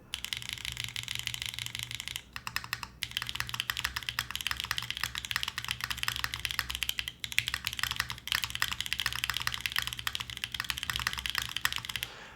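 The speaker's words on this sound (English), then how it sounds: "just get to typing on the keyboard" Fast, continuous clicking of keys on a mechanical computer keyboard during a stream, steady and close for about twelve seconds with brief pauses near the start and no talk.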